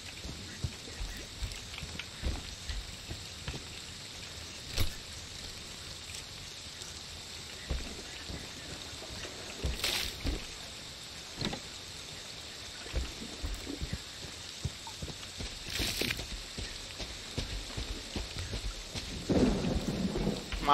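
Rain and rumbling thunder in the Friday the 13th video game, a steady faint downpour broken by several thunder cracks at even intervals, with no voices over it.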